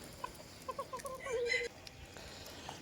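Young roosters squabbling over hens in a backyard flock give a run of rapid clucks, then a harsh drawn-out squawk, fairly distant and faint.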